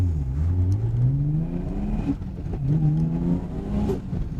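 A twin-turbo Nissan Skyline GT-R pulls away and accelerates through two gears, the engine pitch rising steadily, dropping at the shift, then climbing again.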